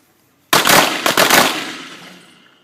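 Handgun shots at self-defense combat shooting practice, a rapid burst of loud, close reports fired in quick succession, then ringing and echo fading out afterward.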